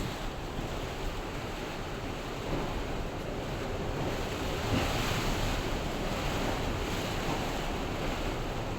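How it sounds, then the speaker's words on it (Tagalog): Strong typhoon wind roars continuously outside a room, a dense, steady rushing gust noise that swells slightly midway, with no talking. "Kusugin siyang hangina, guys."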